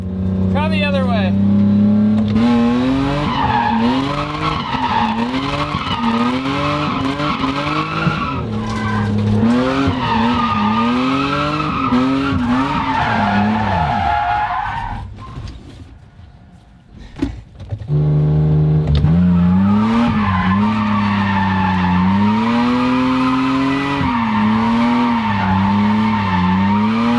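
A 1990s BMW E36, bought for about $1000, drifts with long tire squeal and a steady engine note rising and falling over roughly 27 seconds, pausing briefly near the middle before sliding again, loud and close.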